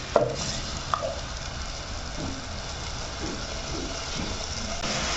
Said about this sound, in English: So I'm going to let my tomato cook until they are tender.